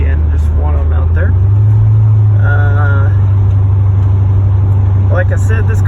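A Porsche 928 S4 V8 with added MagnaFlow mufflers holds a low, steady drone from outside the car, rising slightly in pitch partway through, while someone talks over it.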